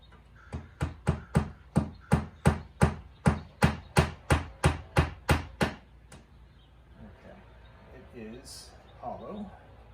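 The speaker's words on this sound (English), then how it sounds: "take a hammer and nail and nail through that mark" A quick run of about fifteen evenly spaced hammer blows driving a nail into a wall, close and sharp, then a few quieter knocks and faint sounds after.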